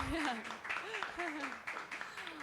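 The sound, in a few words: audience applause for a hackathon winner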